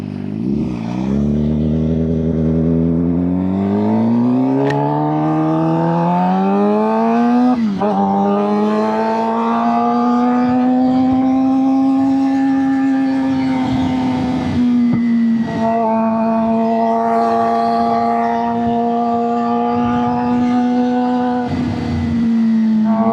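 A custom Suzuki GSX-R 750 motorcycle engine on a test ride, loud and close throughout, its rough exhaust note climbing through the gears with rising harmonic whines and brief dips at each shift.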